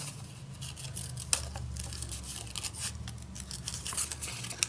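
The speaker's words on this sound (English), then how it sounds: "Now let's just cut in here around our pretty, pretty roses." Scissors cut paper around printed roses for a Midori-style journal cover, giving close, repeated snips and crisp rustles in an uneven rhythm with no talking.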